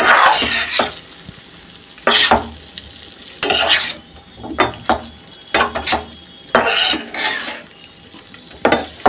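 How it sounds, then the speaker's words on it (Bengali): Spice paste is sautéed in a pan with ridge gourd, fish and potatoes for a Bengali shrimp dish, in repeated loud bursts of spatula scraping and sizzling at an irregular rhythm, close up. "এইবার আমি পুরো সব কষে নেব।"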